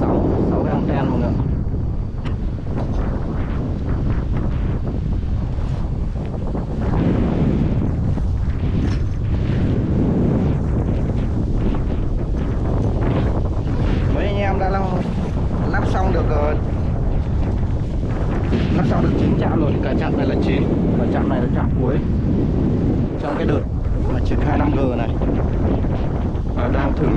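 Strong wind roaring and buffeting against the microphone high atop a Viettel BTS cell tower with several long antennas, a loud, constant rumbling gust that never lets up, with a voice speaking at times underneath.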